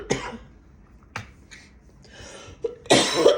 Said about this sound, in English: Coughed up something that tasted salty.